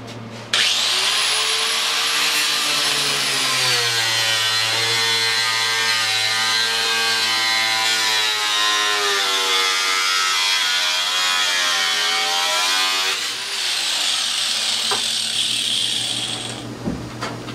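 A power saw or cutting tool cuts through a plastic rear fender of a Polaris Big Boss 6x6 ATV in one long continuous whine with a rising and falling pitch, loud and close, running alone from start to finish.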